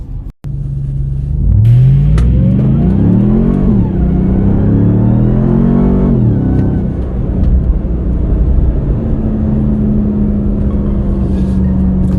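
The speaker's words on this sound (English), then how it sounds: "we're going to drive through some of these rougher dune areas and see how the truck handles" A 2021 RAM TRX pickup's 702 hp engine revs hard and climbs in pitch several times, rumbling loud and close, then settles into a steady drone as it drives over rough beach dunes.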